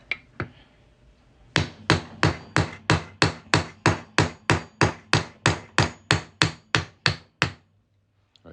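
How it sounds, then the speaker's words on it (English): Plastic teardrop mallet striking a one-ounce fine silver coin being formed into a ring, two isolated taps followed by a steady run of about eighteen sharp, evenly spaced hits, then silence. "we're going to hammer this on through here"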